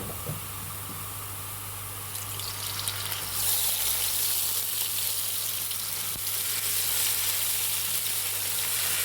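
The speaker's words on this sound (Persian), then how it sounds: "ربم یه تفت میزنیم تا رنگش وا بشه، رنگش باز بشه." Tomato paste sautéing in a pan for a home-cooked kofta dish, a steady close sizzle that swells louder partway through and keeps hissing without any talk.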